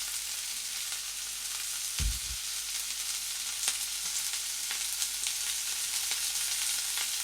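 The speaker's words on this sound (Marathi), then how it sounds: "सगळं वाटण घालून झाल्यानंतर आपल्याला हे छान परतून घ्यायचं आहे." Ground spice paste sizzles steadily in hot oil in a pan, the base for a spiced potato gravy, with a single low thump from the pan partway through.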